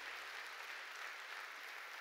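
Church congregation applauding during a Korean sermon, a dense even wash of clapping heard briefly and fairly quietly, with no voices over it.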